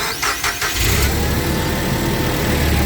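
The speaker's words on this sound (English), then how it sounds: "What I want to see is when I start the engine" A car engine cranks with a few quick starter bursts, then catches and settles into a steady close idle, heard alone without talk.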